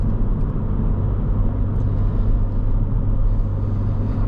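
Steady, droning Honda Civic engine rumble at half throttle while towing, continuous and close, with constant low road noise and no voices.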